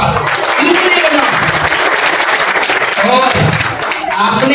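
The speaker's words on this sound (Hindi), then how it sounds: "इनके लिए आप दोस्तों तालियां बजा दो एक बार." An audience at a college event applauds continuously with dense, loud clapping throughout, mixed with crowd noise and some voices.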